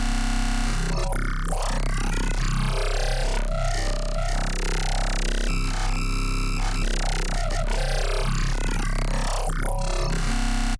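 A dubstep-style wavetable synth played through the Prism plugin, a dense, continuously loud growling tone with shifting, wobbling texture and no pauses.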